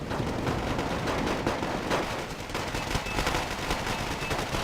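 Gunfire and explosions in the Wargame Red Dragon strategy game, from a tank charge with flamethrower infantry and riflemen: dense rattling bursts and sharp cracks under a constant battle roar, loud and continuous without talking.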